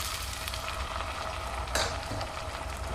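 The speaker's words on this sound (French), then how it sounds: "Je vais maintenant ajouter une louche de bouillon." A ladle of broth hits a pan of asparagus risotto, setting off a loud, continuous sizzle and bubbling hiss with a brief splash partway through, close up and without speech.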